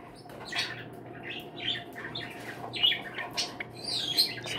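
A Java sparrow gives a run of short squawks and chirps close by, irregular and fairly faint, over a low steady hum of the room.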